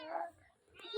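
A single short meow from a kitten comes first, faint and nearby in a quiet room, followed by a brief soft sound near the end.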